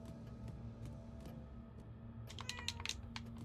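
In the video game Murdered: Soul Suspect, a cat meows softly in a short cluster of cries over a quiet ambient background.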